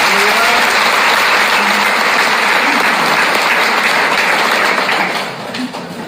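Loud, dense applause from a congregation at a police missionary society prayer meeting, many hands clapping continuously for several seconds before easing off slightly at the end.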